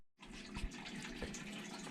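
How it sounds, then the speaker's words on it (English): Cucumber slices drained out of boiling water in a kitchen, a steady rush of pouring water starting abruptly and continuing evenly, fairly faint with no talk. "drain the cucumber slices out"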